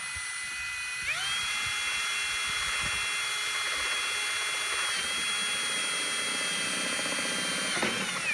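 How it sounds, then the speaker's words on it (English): A power drill with a 13/16 bit bores an overflow hole through a plastic bucket, a steady high whine running continuously, close and loud, with a pitch rise as it spins up and a brief change as it breaks through. "I have to drill a hole We'll use this 13/16 bit again."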